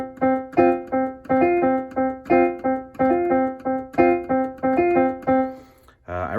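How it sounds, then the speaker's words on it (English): Piano playing a 5-against-2 polyrhythm, two hands repeating interlocking chords in a steady cycling pattern of bright struck notes for several seconds, close and clear, with a brief different sound at the end. "5-2, and it sounds like this."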